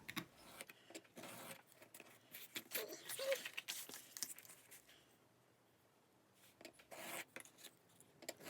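A craft knife cuts the edges off a handmade craft piece, giving soft, irregular scraping and rasping strokes close by, with a quieter pause partway through before the cutting resumes.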